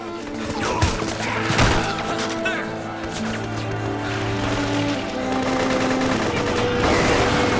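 Gunfire rattles in the Metal Gear Solid 4 battlefield, with heavy shots and thuds layered over a continuous rumble of combat and game sound, a voice briefly present amid the barrage.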